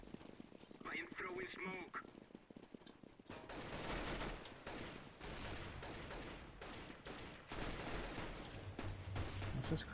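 Rapid bursts of UMP submachine gun fire in the game CS:GO, loud and dense through the second half, following a stretch of clattering in-game movement and some speech.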